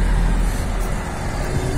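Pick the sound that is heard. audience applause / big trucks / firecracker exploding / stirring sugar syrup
big trucks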